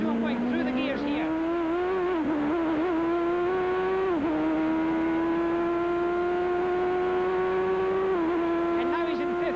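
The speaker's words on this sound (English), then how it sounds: "Now listen to him going through the gears here." A 1988 CART race car at the Meadowlands street course climbs up through its gears, the loud sustained engine whine rising then dropping sharply at each shift, with a few brief dips and bumps along the way.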